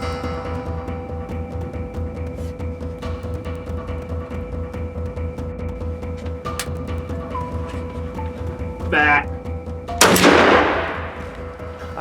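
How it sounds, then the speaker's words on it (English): A single rifle shot during a whitetail deer hunt on an Illinois field, a sharp loud crack about ten seconds in that decays into a rolling echo, preceded by quiet outdoor ambience and a brief faint chirp. "I shoot, and frankly, I thought the shot was a little bit off as he went running away."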